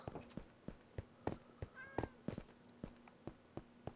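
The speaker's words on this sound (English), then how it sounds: "Oh, I heard a kitty." Minecraft cat meowing in survival mode, a short harmonic mew in the middle of repeated sharp footstep-like thumps and a steady low hum, fairly faint overall.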